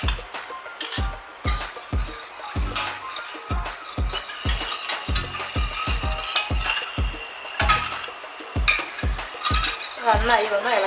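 An eggless pudding mixture with orange juice is stirred briskly in a pan, giving steady, evenly spaced scraping strokes of a spoon against metal. A faint sizzle and clinking run beneath, close and without talk.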